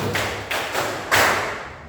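A school class claps in unison for a rhythmic spirit cheer in a junior high science lesson, with three sharp, loud group claps spaced evenly, the last one strongest.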